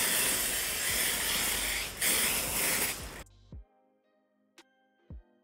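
Continuous aerosol spray of a sweet, fruity-scented Makeup Revolution body veil, a loud steady hiss lasting about three seconds, followed by a few faint clicks and taps in near silence.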